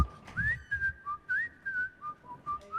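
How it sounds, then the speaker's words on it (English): Someone whistles the Andy Griffith theme tune, a bright, clear melody in short rising and sliding phrases, close and alone with no talking. "All rise for the whistling of Andy Griffith."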